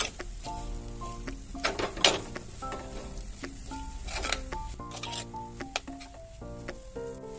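Beef stirred and heated with ground coconut and gingelly oil in a pan for beef thoran, a spoon scraping and clinking steadily over a soft, continuous sizzle, with no talking.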